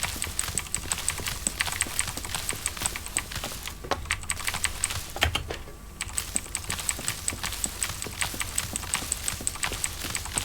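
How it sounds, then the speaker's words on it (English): A single computer keyboard key is pressed rapidly and repeatedly in the game Rust, producing a dense, fast run of sharp clicks that briefly pauses midway before resuming. "This is where you press one button on the keyboard lots of times."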